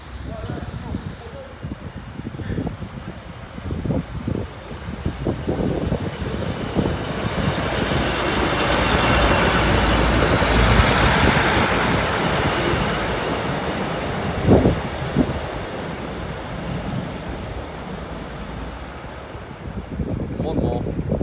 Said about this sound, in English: as train 2 slowly pulls into the through line, train 1 will depart from the platform